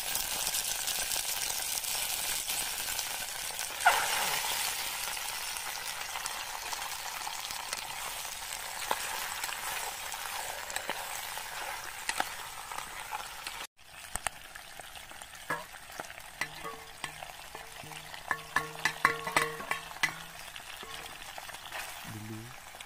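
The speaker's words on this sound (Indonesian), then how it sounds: "Oke, sekarang kita tumis ikannya." Fish sautés in a pan over a campsite fire in a forest, a constant loud sizzle and crackle of hot oil with occasional stirring and faint background tones, and no one speaks.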